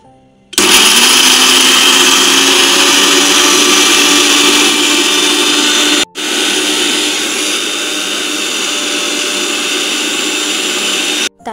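An electric mixer grinder whirs loudly and close while grinding urad dal into batter for bori, cutting out for a moment midway before starting again at full speed.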